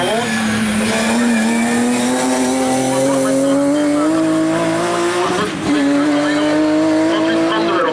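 A BMW race car on a slalom course (Slalom Bas) accelerates hard, its loud engine note rising steadily with tire squeal, and a brief dip before the revs climb again, close and continuous throughout.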